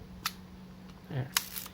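A Yashica Electro camera set to B fires its shutter: a sharp mechanical click opens it and a second crisp click closes it about a second later, close and distinct in a quiet room.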